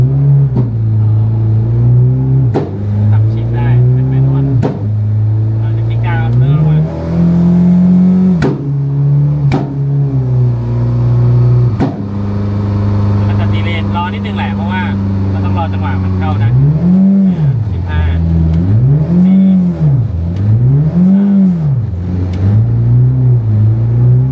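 A turbocharged K-series Honda Civic FD with a DSG gearbox in sport mode and a MaxxECU unit pulls hard, its engine note climbing and dropping through gear changes, then swelling in three quick rev sweeps, loud and close with talking over it.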